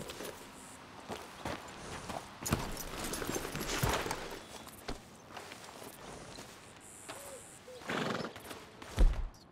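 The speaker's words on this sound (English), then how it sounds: "I gotta feed my horse." A horse in Red Dead Redemption 2 whinnies and snorts while its hooves clop and shuffle on the ground, irregular close steps and a few sharp neighs over a quiet game soundscape.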